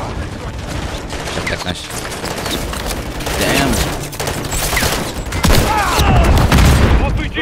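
RPG blasts and rapid gunfire from a Call of Duty Modern Warfare 3 match, with heavy booms and bursts of shots building toward a loud explosion near the end, while a player talks over the action.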